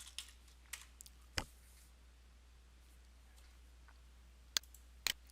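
A computer keyboard tapped sparsely as a password is entered: a handful of separate, crisp key clicks spread irregularly over a quiet background hum, with a short double tap near the end.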